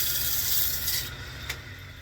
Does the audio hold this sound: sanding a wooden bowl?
yes